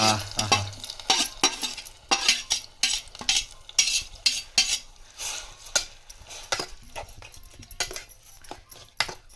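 Grated cucumber, jaggery and ghee stirred together in a pot, with irregular scraping and clinking strokes of a spoon against the vessel and a faint sizzle, close and moderately loud.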